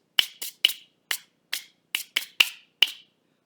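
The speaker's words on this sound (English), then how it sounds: "you kind of hear the wooden sound that it creates, but it still has a sandpaper, so it has that scratchy sound" Wooden sand blocks faced with sandpaper are struck and scraped together in about nine short, sharp, dry rasps at an uneven rhythm, close and clear with silence between them.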